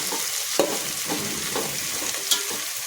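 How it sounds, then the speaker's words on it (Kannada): Mushrooms frying in a pan for a country-style veg mushroom pulao sizzle steadily while a utensil scrapes and stirs in several distinct strokes, with a sharp clink near the end and no voices. "ಇದಕ್ಕೆ ಮಶ್ರೂಮ್ನ ಹಾಕ್ಕೊತಿದ್ದೀನಿ. ಮಶ್ರೂಮ್ ಸ್ವಲ್ಪ ಚೆನ್ನಾಗಿ ಬೇಯಲಿ."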